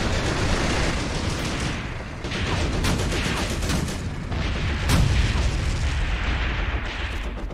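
Dense combat in the tactical war game Graviteam Tactics, with continuous gunfire, machine-gun bursts and repeated booming explosions layered into a loud, unbroken rumble, without speech.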